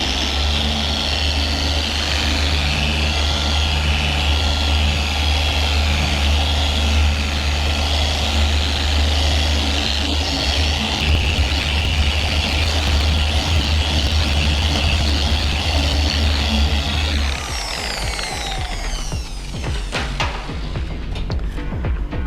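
A dual action polisher running at speed 3 on a car's paint gives a loud, steady mechanical whir with a motor drone, holding for about seventeen seconds before it winds down and stops.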